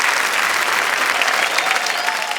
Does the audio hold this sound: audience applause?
yes